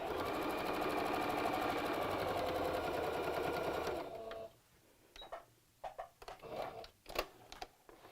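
Sewing machine stitching a fabric Easter bunny bag over a bulky side seam, a fast steady whirring run for about four seconds, then stopping, followed by a few soft handling clicks and taps.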